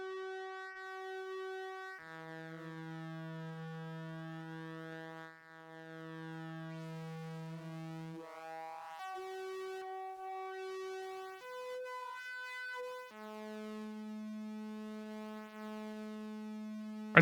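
Thin, bright tones from a Benjolin synthesizer play a slow sequence of sustained notes, with the low end cut away by a high-pass filter and a hollow, filtered quality.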